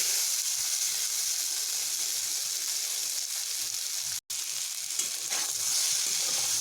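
Bitter gourd and pumpkin frying in oil in a pan, giving a steady, dense sizzle close by with no talk, cut by one brief silent gap before it resumes.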